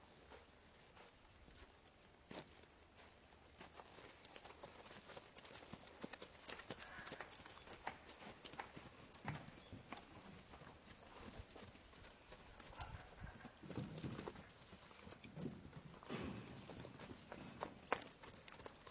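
Horse hooves clip-clop in a steady trotting rhythm during a riding lesson, faint and somewhat distant over low background noise.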